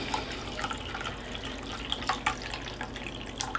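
Warm water pours steadily into an ultrasonic cleaner unit, a soft continuous trickle and splash with faint drips, no talking.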